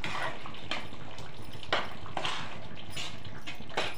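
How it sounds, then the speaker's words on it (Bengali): Water poured into a pan of paneer curry, a steady close splashing pour with brief clinks and gurgles. "এবার আমি খানিকটা জল অ্যাড করে দিচ্ছি"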